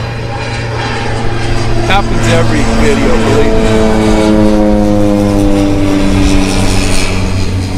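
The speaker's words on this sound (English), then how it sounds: "We're going to let this plane go by." A low-flying propeller airplane drones loudly overhead at a bass fishing spot, its engine tone shifting as it passes, while someone speaks underneath.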